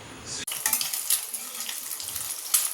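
An egg frying in a pan for a quick home-cooked rice dish, heard as a close, bright crackling sizzle after a sharp start, with small pops and spatters over the frying.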